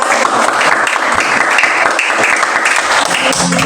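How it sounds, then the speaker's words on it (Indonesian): Audience applause from a church youth gathering, steady and dense throughout, a roomful of people clapping together at close range with no voices rising above it. "Tepuk tangan dulu sendiri dulu."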